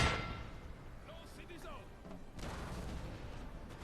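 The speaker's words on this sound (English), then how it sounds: "All of my cannon on canister here." Cannons firing canister shot in the Napoleon Total War video game sound as faint booms and rattling gunfire under distant battle noise, while someone talks over the action.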